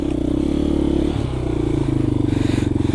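A motorcycle rides along a wet single track trail, its engine loud and close with a steady pulsing drone that surges and dips as the bike pushes through, with faint scraping and clatter underneath.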